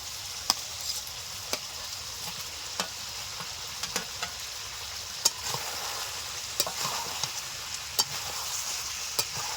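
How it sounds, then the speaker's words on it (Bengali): Potatoes and carrots stirred into sautéed chicken curry in a Bengali-style pot, with a steady sizzle under scattered sharp spoon scrapes and clicks, close and moderately loud, no voices. "মাংস ভালো করে কষে নিয়েছি এখন আলুটা দিয়ে দেব শুধু আলু নয় আলুর সঙ্গে গাজরটাও দিয়ে দেব"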